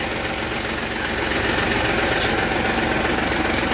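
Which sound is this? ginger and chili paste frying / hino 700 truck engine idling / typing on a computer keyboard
hino 700 truck engine idling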